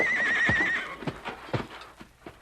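A horse on a Pony Express ride in a radio drama whinnies loudly, then gallops with several heavy hoofbeats that fade as it moves off.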